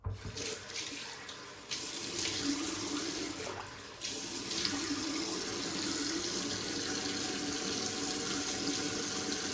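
Tap water runs steadily into a sink before a wet shave with a brush and lather, a continuous close splashing stream that starts after a brief pause and carries on alone.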